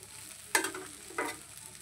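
Rice being fried and stirred in a pan in a home kitchen: two short scraping, sizzling stirs, the first stronger, over a quiet low background, fairly faint and close.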